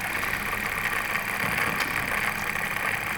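A tiny magnetic impulse motor, a magnet flipping back and forth between poles, runs with a steady, close, mid-level buzzing whir that continues without pause for the whole stretch.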